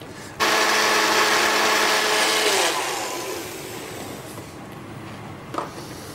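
A kitchen blender runs loudly, whirring steadily as it purées a soup finished with a knob of butter, then the motor winds down and fades out, leaving a softer tail with a small clunk near the end.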